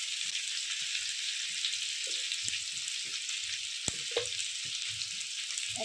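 Mixed vegetables with salt and turmeric fry in a pan for a traditional Bengali shukto, a steady, soft sizzle with occasional stirring clicks and scrapes and no talking.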